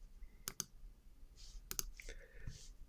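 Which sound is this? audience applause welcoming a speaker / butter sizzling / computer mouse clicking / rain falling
computer mouse clicking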